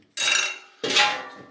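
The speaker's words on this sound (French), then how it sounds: "regardez, petite casserole en cuivre là." A small copper saucepan knocks and clatters twice with bright metallic clanks that ring and fade, close and alone.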